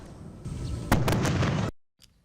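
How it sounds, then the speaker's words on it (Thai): Heavy booming blasts of BM-21 rocket artillery shelling near the Thai-Cambodian border in Sisaket hit in a rapid cluster, loud and rumbling, then cut off abruptly, followed by a faint distant thud. "หลังจากเสียงปืนใหญ่ถล่มเข้ามาเนี่ยนะฮะ"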